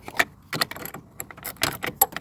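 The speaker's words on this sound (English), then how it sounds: "Taking a 10mm ratchet wrench makes the job easy." Sharp metallic clicks and clinks in short bursts from a 10mm ratchet wrench working on a car battery terminal of a 2013 Honda Civic, close by, with passing traffic faint in the background.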